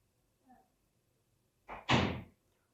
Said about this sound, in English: Shut your door.